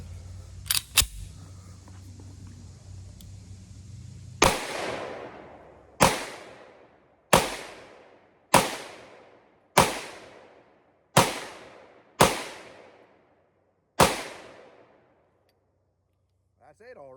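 A Zastava M57 pistol fires eight rounds in an uneven, fairly quick sequence of sharp, loud cracks, each followed by a short decaying echo. A couple of small metallic clicks come first, and silence follows the final shot.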